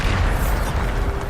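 A Bombarda spell blast in Hogwarts Legacy, a loud, dense, rumbling explosion filling the whole moment with heavy low-end boom and no gap or voice.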